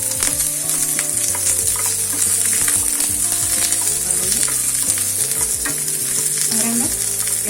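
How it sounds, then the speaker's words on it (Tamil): Pirandai (adamant creeper) fries in a pan with a steady loud sizzle, joined by scraping and stirring clatter throughout, with no talking. "அடுத்து பிரண்டையை போட்டு வறுத்துக்கலாம்."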